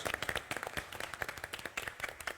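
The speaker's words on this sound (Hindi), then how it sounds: "जोरदार तालियां फॉर बीइंग अ स्पोर्ट" Quick, crisp clapping from an audience at a TV comedy show taping, a run of distinct, fairly quiet claps with an uneven rhythm rather than a full roar.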